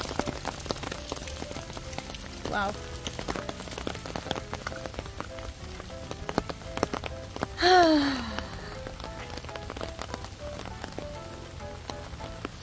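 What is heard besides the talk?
rain falling on trees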